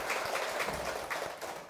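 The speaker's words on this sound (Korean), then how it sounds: "자, 박수 한번 쳐볼까요?" An audience at the opening session of a Buddhist meditation dharma class claps together: a soft, fairly distant, continuous patter of many hands lasting a couple of seconds.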